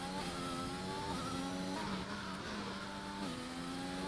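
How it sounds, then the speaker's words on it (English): Aston Martin Formula 1 car engine in an F1 racing game on a flying lap at the Singapore circuit, a loud, steady high-revving whine with rising and falling gear pitch and one shift, continuous throughout. "We're following the Aston Martin on his flying lap"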